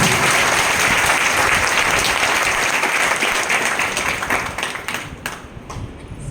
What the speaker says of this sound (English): So give a good clap for our teachers.